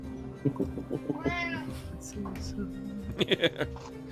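A cat meows several times in a row, close and fairly loud, including one long drawn-out yowl, while people talk over it.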